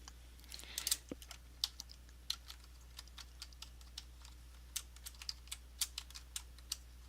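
Steady typing on a computer keyboard, a long run of crisp, separate key clicks at an even, unhurried pace, close by in a quiet room.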